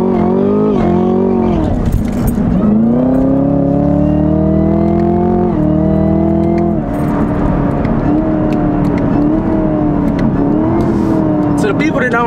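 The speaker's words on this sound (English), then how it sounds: "when you downshift, folks, it's way better than using your brakes" A car engine revving hard through repeated downshifts, its pitch climbing and dropping in steps, loud and close throughout with a person talking over it.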